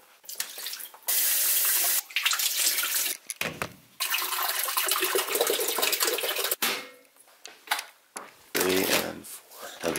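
Water runs from a tap in bursts as drinking bottles are filled, the flow starting and stopping several times with gurgling changes in pitch at close range.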